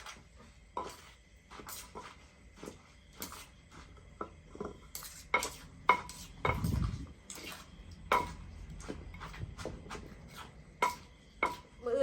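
Fresh shrimp salad pounded in a mortar with a pestle for a Thai-style spicy dish served with rice noodles: repeated sharp knocks arriving in an irregular rhythm, close and fairly quiet, with a heavier thud partway through and no talking.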